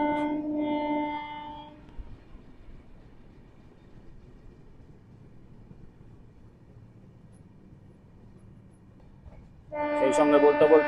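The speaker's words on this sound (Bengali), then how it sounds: "সেই সঙ্গে বলতে বলতে আমাদের ট্রেন কুমারডুবি পৌঁছে গেল।" The 13151 Jammu Tawi Express passenger train running on the Kolkata–Ayodhya route, heard from inside as a steady low rumble, with a person talking at the start and end.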